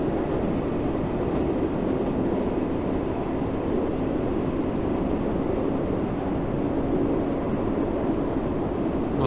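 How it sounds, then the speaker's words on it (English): An Island Line train on the Isle of Wight in Train Sim World 2 accelerates at full power, giving a loud, steady, unbroken rumble and roar that holds evenly throughout, with no voices. "Let's give the train maximum power, so we can get up to line speed as quickly as possible"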